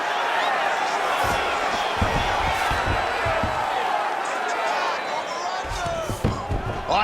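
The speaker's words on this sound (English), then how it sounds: "All right, crowd absolutely loving it as the fighters, however compromised, make their way back to the field." Steady arena crowd roar and cheering from the UFC 5 video game fill the scene continuously, loud and dense, with scattered thumps and shouts throughout.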